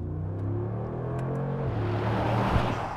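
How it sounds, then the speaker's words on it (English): A 2019 Mercedes-AMG G63 SUV engine accelerating at full throttle, a deep rumbling roar that climbs steadily in pitch as the revs build. "Flooring the throttle in this thing,"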